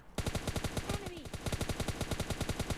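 Automatic gunfire in PUBG Mobile Lite: a long, rapid, evenly paced burst of loud close shots running almost nonstop for nearly three seconds, with a brief faint voice underneath.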